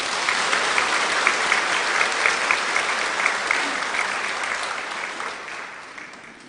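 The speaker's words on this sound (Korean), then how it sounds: "축하의 박수 주시기 바랍니다." A congregation at a Korean church's Sunday service claps in celebration of an infant baptism, a loud, even burst of many hands that holds steady and then gradually fades out.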